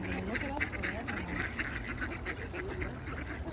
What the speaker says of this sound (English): Pretty sure it's a type of duck.